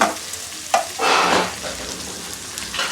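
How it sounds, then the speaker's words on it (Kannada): Onions fry in a pan for a pumpkin soup, giving close sizzling bursts with stirring scrapes and brief clatters over a few seconds. "ಸೊ ಇವಾಗ ಆನಿಯನ್ ಎಲ್ಲ ಫ್ರೈ ಆಗಿದೆ"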